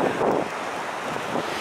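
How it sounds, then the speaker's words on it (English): Ocean surf washes onto a beach under strong wind, a steady loud roar with gusts buffeting close to the microphone. "As you can see, the waves are not so calm."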